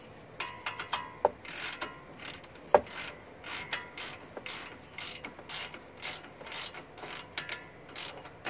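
A ratchet works on the front brake bolts of a 2007-2014 Subaru Impreza during a brake pad and rotor change, giving a run of close mechanical clicks and creaks with a few sharper knocks, with no talk over it.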